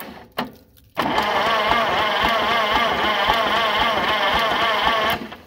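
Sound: old tractor engine starting and running

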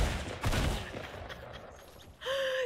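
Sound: gunfire in the video game Fortnite

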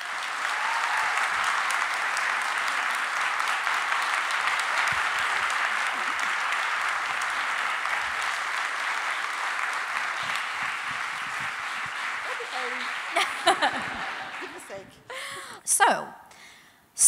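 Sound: audience applause

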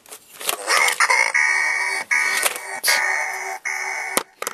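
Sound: chicken clucking

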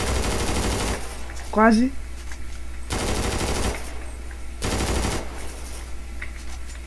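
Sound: gunfire in the video game FiveM (GTA V)

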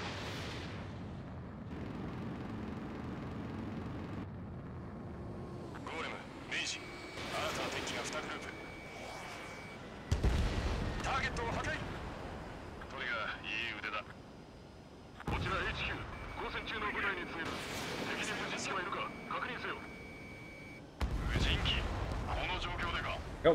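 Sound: gunfire shooting enemy aircraft in video game Ace Combat 7

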